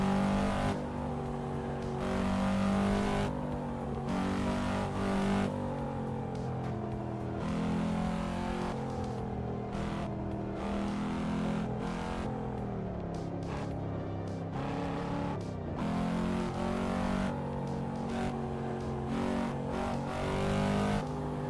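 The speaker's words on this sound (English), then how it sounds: "I'm just driving a Cadillac CT5V." A Cadillac CT5-V racing in Assetto Corsa Evo, its engine droning and revving steadily with repeated rises and drops through gear changes, loud and continuous throughout.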